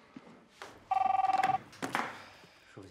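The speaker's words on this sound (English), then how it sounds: "the phone is ringing." A telephone bell rings in a rapid trilling burst, fairly loud and close, followed by clattering and handling noises as it is answered.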